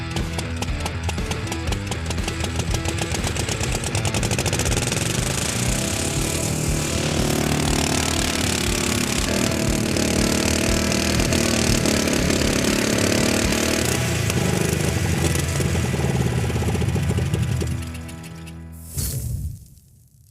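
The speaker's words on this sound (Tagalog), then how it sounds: "napaandar natin ang makina pero malamang di na tayo makakabiyahe dahil sira ang timing ng ignition at mahina na ang hatak" An old car engine, revived after being found in ice and running with faulty ignition timing and weak pull, chugs loudly and unevenly up close with a rough, rattling rhythm, then cuts out near the end.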